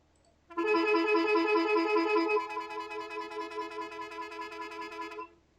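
A car horn in the online game MTA blares loud and continuous for about five seconds. It starts abruptly, its tone shifts partway through, and it cuts off cleanly.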